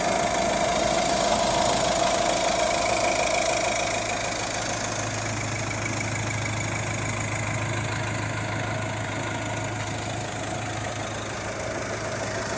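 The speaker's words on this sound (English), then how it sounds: "let's get you to listen to this engine" A brand-new Iveco Daily van with a 2.3 HPi Euro 6 diesel engine idling: a steady, close mechanical clatter with a low hum, and faint traffic noise in the background.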